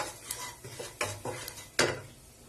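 Spices being stirred and scraped in a pan while masala powders roast with sesame, several sharp clattering strokes of a spoon against metal with a faint low sizzle underneath, close and moderately loud.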